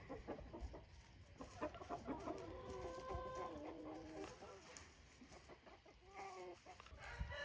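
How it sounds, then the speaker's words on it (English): Free-ranging farm chickens clucking and murmuring nearby in repeated short calls, with a distant rooster crow, faint background noise and some quiet talking. "I always feel like the chickens make happier sounds when they're free ranging."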